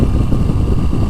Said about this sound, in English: I'm getting a lot of engine vibration in the seat.